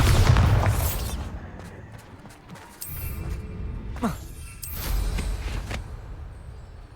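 Bombarda blasting spell going off in Hogwarts Legacy, a loud booming burst near the start followed by rumbling debris and a couple of sharper impacts fading out.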